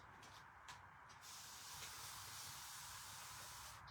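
A spray bottle mists water onto wood slices, a few quick hissing bursts followed by a steady, fairly close spray hiss, with no talking.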